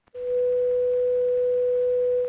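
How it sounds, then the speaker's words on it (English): A pure 500-cycle sine test tone sounds alone, steady and loud, starting abruptly after a brief click and holding at one unchanging pitch. "This simple 500-cycle tone can be represented mathematically by a sine wave."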